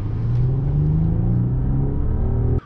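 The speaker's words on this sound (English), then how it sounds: "Start the engine." A Mercedes S500 car engine pulls away and accelerates in a smooth rising rumble, heard close from inside the cabin, cutting off abruptly at the end.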